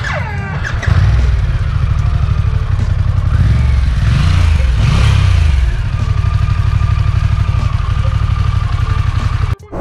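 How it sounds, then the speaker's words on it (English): Exhaust of a 2021 Harley-Davidson Pan America Special motorcycle, loud and close, with a steady throbbing idle and a few blips of revving near the middle, cutting off abruptly at the end. "Let's get a little exhaust clip for you guys."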